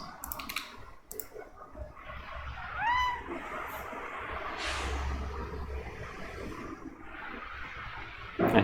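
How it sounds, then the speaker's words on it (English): A pet cat gives one short, soft meow beside a home computer desk, surrounded by keyboard clicks and faint room noise. "I have my cat here beside me."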